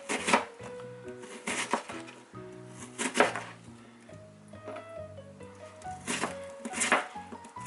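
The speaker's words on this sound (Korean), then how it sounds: "양파를 이렇게 여러분 썰어줘" A knife slices onions on a cutting board for a kimchi pancake, giving irregular crisp chops with a steady gentle tune playing underneath.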